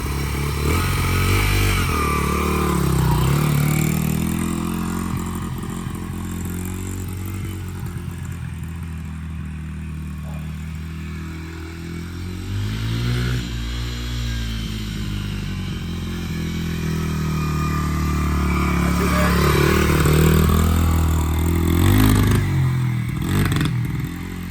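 A Honda XR80 motorcycle engine runs continuously on fresh gas after a carburetor clean, loud and close with a rough clattering note, the revs swelling and easing in slow waves throughout.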